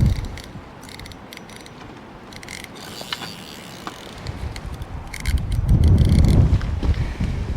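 Short bursts of clicking from a fishing reel clutch being adjusted on a cliffside line over the sea, with wind rumbling across the microphone and growing stronger toward the end.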